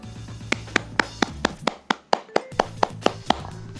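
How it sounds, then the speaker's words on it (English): Single hand claps ring out one at a time at a steady pace, about a dozen sharp, fairly loud slaps close by, with short gaps of quiet between them and no talking. "That's a clap."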